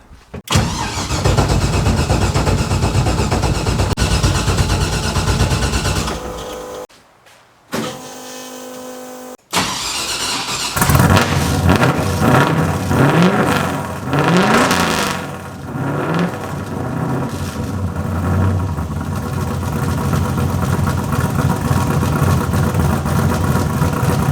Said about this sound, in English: let's turn this thing over and see if we can get some oil pressure